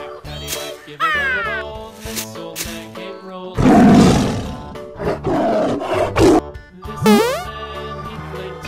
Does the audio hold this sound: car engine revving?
no